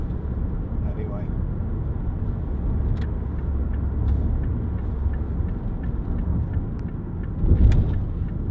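A Mazda 5 1.8 TS2 five-door hatchback on the move, giving a steady low cabin rumble of engine and road noise throughout, with a brief louder swell near the end.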